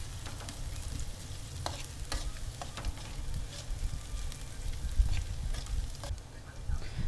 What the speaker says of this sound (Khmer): ដាក់ម្ទេសហើយ ខ្ទឹមសដែលយើងបានហាន់នឹងដាក់ប្រឡេងជាមួយខ្លាញ់នឹងឲ្យវាក្លោយតិច